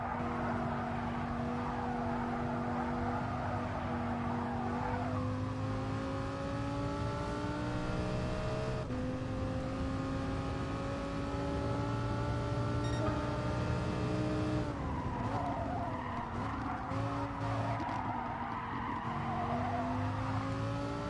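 A Lamborghini Veneno in a racing video game, its engine droning steadily with rising and falling pitch through gear changes, alongside sustained tire skidding and squeal, loud and continuous without any talk.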